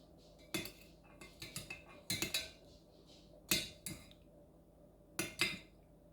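Metal spoon clinking against a cup as honey is stirred into mulberry ginger green tea, a series of bright taps and chinks in short clusters, near and fairly quiet with no talk.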